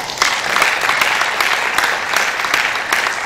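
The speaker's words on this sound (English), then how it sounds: "I think the minister deserves a round of applause" An audience at a youth agribusiness empowerment event in Nigeria gives the minister steady, even applause, a dense patter of clapping hands that holds throughout.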